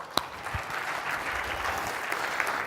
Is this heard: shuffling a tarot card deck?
no